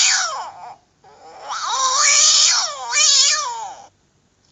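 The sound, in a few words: cat meowing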